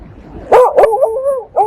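A dog close by lets out a few sharp yips and barks, with whiny tones between them, in Lviv, Ukraine.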